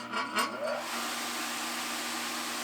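A Harbor Freight Central Machinery bench buffer runs with a steady, fairly quiet whir and a low hum, after a few brief clatters as it comes up to speed.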